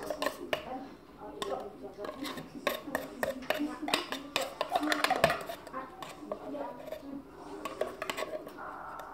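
Spatula scraping and tapping against a bowl while tuna is folded into cake batter, an irregular run of close clinks and scrapes at low level, with a voice talking softly throughout.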